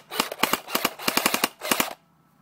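A P90 airsoft gun fires in quick bursts, about a dozen sharp cracks in irregular clusters, close and fairly loud, then stops into quiet.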